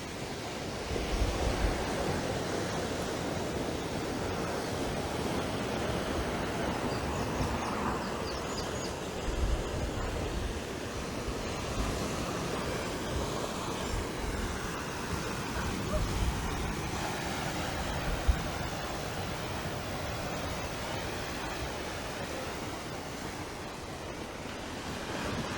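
Ocean surf breaks below the cliffs at Freights Bay, a continuous broad wash of waves with wind rumble across the microphone, steady and fairly loud throughout with no talking.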